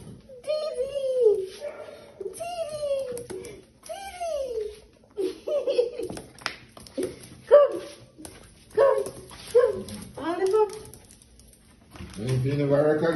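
A dog named Dior gives a run of high, yelping barks and whimpers, repeated in short bursts close by, with a brief voice at the end.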